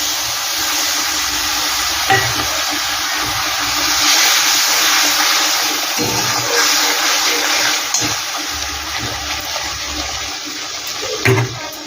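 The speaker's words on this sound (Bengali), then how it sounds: "বাটিটা ধুয়ে একটু জল দিয়ে দিচ্ছি।" A bowl rinsed and water poured from it in a kitchen while a fig kofta curry cooks: a loud, continuous gush and splash of running water lasting throughout, with a few clinks.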